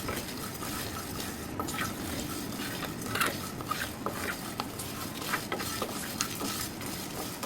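Whole dried red chillies, black peppercorns, cinnamon, black and green cardamom and cloves dry-roast in a dry pan, giving a steady scratchy rustle with scattered light clicks and scrapes of stirring throughout.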